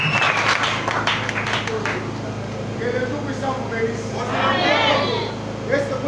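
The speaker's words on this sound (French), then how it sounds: "Nous pouvons acclamer pour Jésus." A church congregation cheers and claps for Jesus, with a burst of applause and shouts up close that fades as a voice carries over the crowd.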